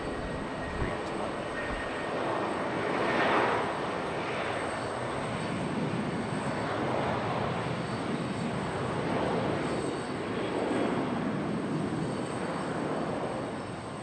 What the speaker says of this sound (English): we got a good sound and departure right here. This is A319.